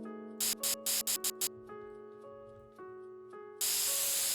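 Terrain paint sprays in The Sims 3 in short bursts of hiss, several quick puffs and then a longer steady spray, over soft background music with no talk.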